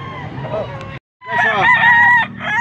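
Roosters crowing loudly and close at a fowl market, one drawn-out crow, a brief silence, then an overlapping chorus of crows with clucking and a voice in the background.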